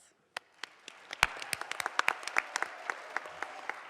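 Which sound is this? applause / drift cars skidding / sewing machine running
applause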